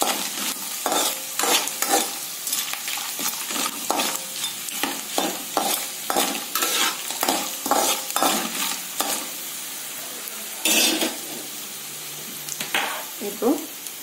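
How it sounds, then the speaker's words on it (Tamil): Garlic sautéing in oil for a tamarind rice dish, with bursts of sizzle and rhythmic, fairly loud spatula scrapes and stirs close by, alone without speech. "பூண்டு சேர்த்து கொஞ்சம் நல்லா வணக்கிட்டு அப்புறமா வெங்காயம் போட்டுக்கலாம்."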